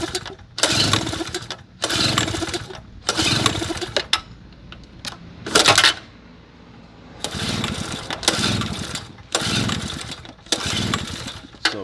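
A small portable generator engine is repeatedly cranked with a pull-start, producing loud bursts of sputtering engine noise separated by brief pauses, roughly seven or eight attempts that never settle into a steady run.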